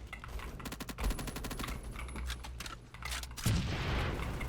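Rapid gunfire from the online shooter game Phantom Forces, dense bursts of automatic shots that run almost without a break, with a heavier burst near the end and no talk over it.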